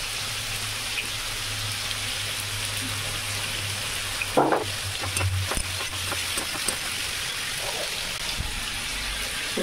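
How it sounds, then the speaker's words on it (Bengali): Prawns sizzle in a pan of fried onion, tomato and cumin, a continuous hiss like rain with a sharp clatter of utensils partway through and a few softer knocks. "এর মধ্যে চিংড়ি মাছটা দিয়ে দেবো।"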